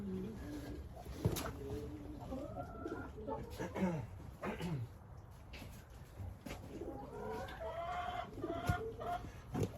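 A Jubilee Orpington hen clucks and murmurs close by in a backyard flock, with repeated soft clucks and rising warbling calls, while a person talks quietly in the background.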